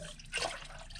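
Engine oil drains from a GMC Yukon XL Denali's Duramax LM2 diesel engine into a pan, a faint, steady trickling pour with a brief swell in the middle.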